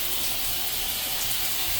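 Shower water pours steadily in a Carnival Venezia balcony stateroom bathroom, a continuous close hiss of spray and splashing with no voices.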